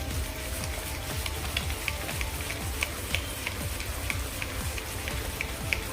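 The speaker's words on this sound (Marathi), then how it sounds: "असं तळहाताच्या सहाय्याने आपण हे फेटून घेणार आहोत पिठी साखर आणि तूप" Powdered sugar and ghee beaten by the palm of a hand in a bowl for nankatai dough: steady, rhythmic soft rubbing and scraping strokes, close and continuous, with no talking.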